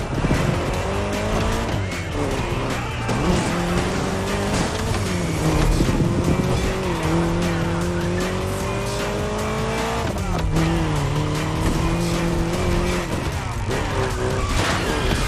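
A car driven hard in the racing video game The Crew Motorfest, its engine revving loudly through rising and falling gear shifts with tire squeal and skidding, continuous and close throughout.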